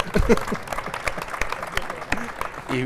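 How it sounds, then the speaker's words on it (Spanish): Audience at a colloquium on scale modelling and art claps for Ramón, scattered distinct handclaps of moderate loudness with a voice speaking over them near the end. "un aplauso para Ramón"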